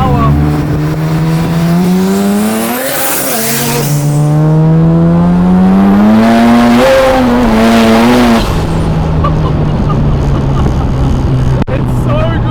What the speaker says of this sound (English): You can hear that backfire.